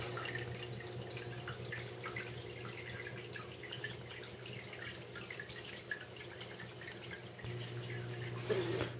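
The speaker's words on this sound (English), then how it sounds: "Sorry for the sound of water," Water running steadily from a tap with intermittent drips, heard at moderate level as a continuous wash throughout.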